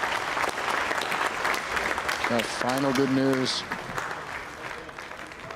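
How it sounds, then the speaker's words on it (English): Applause from the control room at the Kourou launch base as the GSAT 31 satellite separates from the Ariane-5 rocket, sustained clapping and crowd noise with someone speaking briefly over it in the middle. "you heard the applause from people here in Jupiter"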